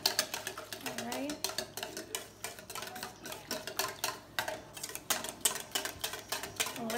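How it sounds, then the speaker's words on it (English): Rapid, uneven clinks and taps of a whisk beating against a bowl continue for several seconds at moderate closeness, with faint murmured talk underneath. "And whisk a little more."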